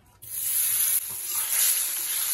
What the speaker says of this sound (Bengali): তেল আপনার মাছটা দিয়ে দেওয়া হবে